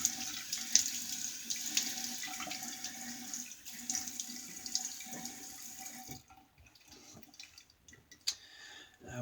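A bathroom tap runs steadily into a sink as hands wet a face before a shave with a single-edge razor, the flow dropping to a quieter trickle and splashes near the end.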